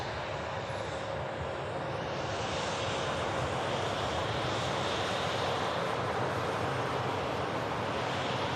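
A KLM airliner departs Manchester Airport with a continuous, loud, steady jet roar and rushing hiss that fills the whole stretch without letup.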